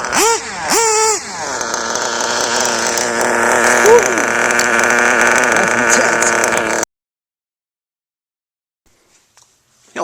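A small .21 nitro engine on an RC truggy revs and screams at high pitch, wavering up and down, then abruptly cuts to silence for the last few seconds.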